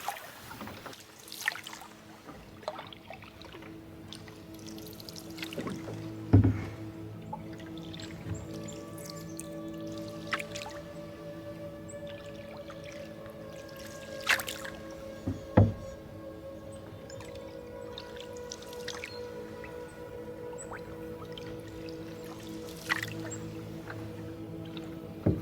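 A canoe glides over shallow water on a fall wilderness trip, with a steady low wash of water against the hull, soft paddle drips and occasional knocks close by, and no talking.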